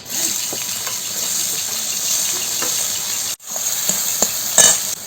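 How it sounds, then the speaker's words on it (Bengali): Bay leaf, dried red chilli, whole cumin and chopped onion sizzle steadily in hot oil for a Bengali stingray fish dish, a dense continuous hiss with a brief dropout and faint stirring clicks. "এবারে ফোড়নে দেব তেজপাতা শুকনো লঙ্কা আর গোটা জিরে পেঁয়াজ কুচিটা দিয়ে দেব"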